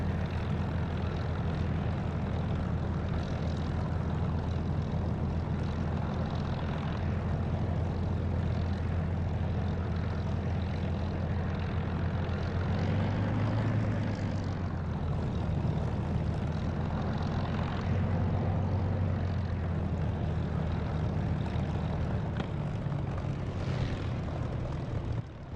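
A simulated aircraft engine roars during takeoff in the DCS flight simulator game, a loud, continuous droning hum with a slight swell partway through and no pauses.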